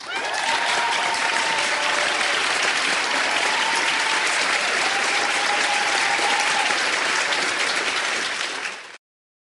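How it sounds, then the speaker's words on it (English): An audience gives a long, loud round of applause for two high school students who solved an old math problem. Steady dense clapping runs for about nine seconds, with faint whistles or cheers threading through, before it cuts off abruptly. "these two young ladies deserve applause"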